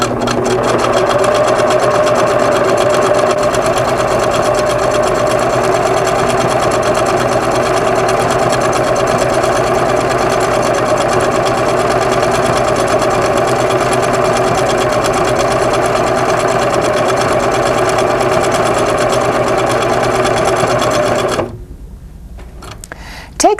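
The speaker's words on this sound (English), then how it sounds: "Set your machine for a feather stitch, lower your needle, and begin to sew." A Singer sewing machine stitches a decorative feather stitch through quilting fabric, its steady loud whirring hum running unbroken for about twenty seconds before stopping abruptly.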